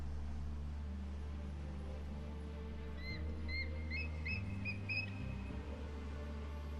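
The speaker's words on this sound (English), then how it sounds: "Ooh, I hear the birds." Several short, high bird chirps cluster together in the middle, faint over a steady low hum of game music in Age of Wonders 4.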